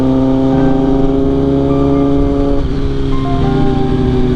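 A Kawasaki Ninja ZX10R superbike riding through Delhi traffic, its engine a loud, close, steady hum with shifting pitch and a slight dip midway, with no talk.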